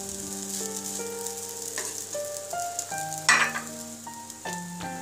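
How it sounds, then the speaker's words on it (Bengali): Shrimp and julienned vegetable fried rice being gently stirred in a pan, with soft scraping and faint sizzling and one brief louder scrape, under steady background music. "এবার আমি হালকাভাবে নেড়ে দেব যাতে ভাতগুলি নিচে লেগে না যায়।"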